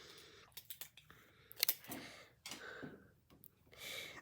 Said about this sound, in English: this is where I'm going to cut my yarn and I'm going to tape it down.